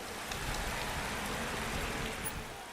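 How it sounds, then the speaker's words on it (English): Steady rain falling on a soaked race track in the motorcycle racing game MotoGP 19, an even, faint hiss of drops with no talk, constant throughout. "the track is completely soaked from the rain that shows no signs of letting up"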